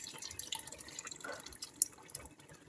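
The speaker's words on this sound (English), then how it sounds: "I'm going to pour in my banga." Banga palm fruit extract poured from a container into a cooking pot, a soft continuous liquid trickle and drip, close and fairly quiet, with no talking.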